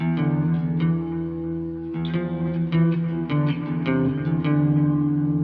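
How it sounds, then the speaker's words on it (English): Clean electric guitar strummed through a Santono Uno preamp with built-in reverb and delay, a series of chords each ringing out with spacious reverb and repeating delay echoes, no voices. "This has actually got a built-in reverb and a delay unit on it."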